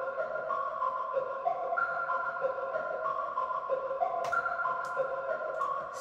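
Synth melody from the Nexus plugin, built for a new beat, plays steady sustained tones in a stepping line, moderately loud and alone with no talking.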